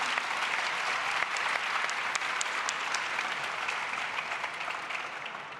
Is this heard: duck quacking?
no